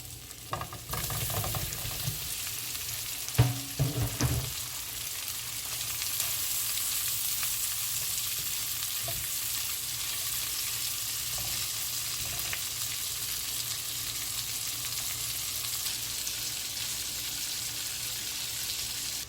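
Sausages hiss and sizzle steadily in a hot pan, opening with a few sharp crackles as they go in, then settling into an even, close frying sound without any talk.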